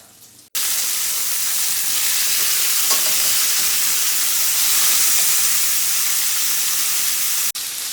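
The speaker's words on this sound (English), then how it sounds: "It is sizzling. That pan is ready." Chicken pieces sizzle loudly in a hot pan while cooking for chicken marsala, a close, steady crackling hiss that holds for several seconds without a break.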